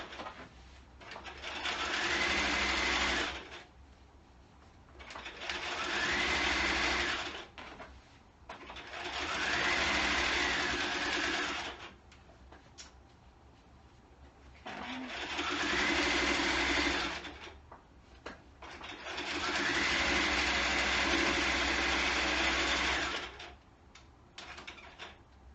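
A sewing machine stitches a coat lining, whirring in five steady runs of a few seconds each, with short pauses between them. The sound is close and clear, with no talk over it.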